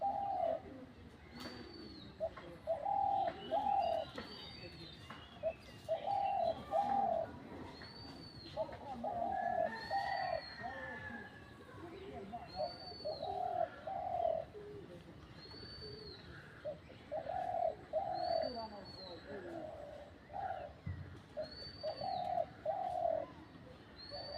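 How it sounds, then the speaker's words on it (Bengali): A decoy dove placed up in a tree coos steadily in regular repeated phrases through the whole stretch, close and clear, with other birds faint in the background and no talk. "পাখি আশেপাশে ডাকা লাগবে না, আপনি উঠাবেন অটোমেটিক ডাকবে।"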